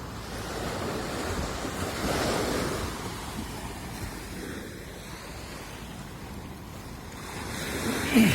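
Gentle sea waves wash steadily onto a beach where people are fishing, a continuous soft surf roar with gusting wind buffeting the microphone.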